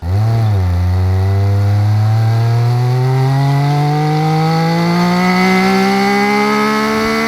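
A Triumph Speed Triple naked motorcycle revs hard, its engine note blipping once then climbing in one long steady rise to a high, loud, close whine that holds to the end.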